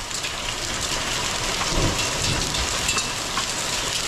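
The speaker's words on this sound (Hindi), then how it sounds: "कैसे आवाज़ आई? ओलों की आवाज़ है, टन टन टन टन।" Dense, steady pelting of a heavy hailstorm drums on surfaces, continuous and loud, with a low rumble underneath and no voices, in Uttarakhand.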